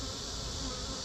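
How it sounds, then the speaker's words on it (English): Honeybees swarm around an opened hive box during hive work, a dense steady buzzing that fills the whole second, close and loud with no talk over it. "Let's leave those bees alone. They're all not very happy with me."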